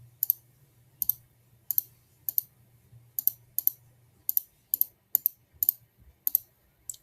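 Mouse clicks in Logic software while entering zeros: about a dozen sharp, close clicks, often in quick pairs, at an irregular steady pace over a faint low hum.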